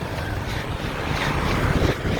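Sea waves and wind along a seaside road between Olongapo and Subic, a dense continuous wash of surf and wind buffeting on the microphone, loud and steady with no voices.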